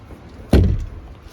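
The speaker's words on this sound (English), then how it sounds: "Door should be shut." A workshop door swung shut, giving a single close, heavy thud with a short rattle that fades quickly.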